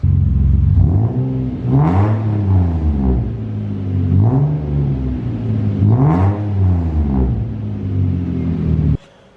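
Custom welded exhaust on a Nissan R34 Skyline revs up and down repeatedly, four rising and falling bursts over a loud idling rumble, close by, then cuts off abruptly.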